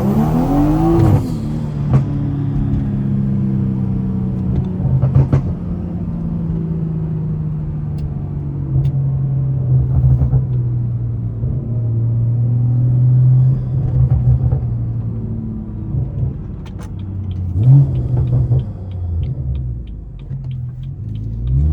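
A BMW X-Drive with a B50 engine on 91 octane, running a downpipe and tune, pulls hard from inside the cabin, a deep droning rumble that swells with each acceleration and tire spin.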